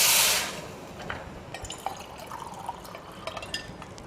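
Water is poured into a pot of rice for a veg pulao, a brief gushing burst at the start followed by soft dripping and trickling settling in the vessel.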